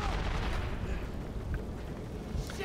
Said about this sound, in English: Oh my God, everything is exploding